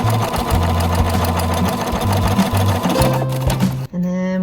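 A sewing machine stitches a quarter-inch seam on a flying geese quilt block, its motor whirring loudly and steadily up close for several seconds before a brief stop and restart near the end.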